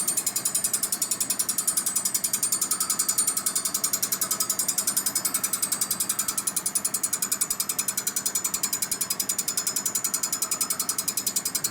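A machine's power feed engaged and running on a Harley panhead engine part being honed, giving a steady, fast mechanical ratcheting clatter that holds evenly and fairly loud throughout with no talk.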